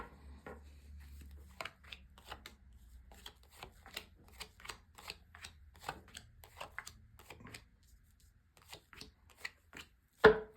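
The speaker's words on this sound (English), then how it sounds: "just going to lay down your 10 cards on the table" Tarot cards snapped down one after another onto a table in a quick, uneven series of crisp taps, close by, with a soft low hum underneath.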